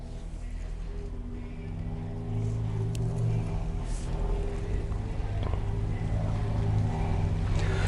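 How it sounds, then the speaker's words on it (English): A Permobil F3 power wheelchair drives with its seat raised, giving a steady low motor hum and drone that holds constant throughout with no talking. "let's go take it for a ride and see how fast it drives with the seat elevated"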